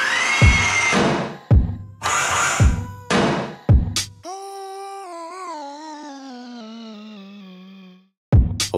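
A neighbour's renovation power drill whirs in several loud bursts with short gaps between them. It then becomes a long sustained tonal whine that fades and stops, followed by one more short burst.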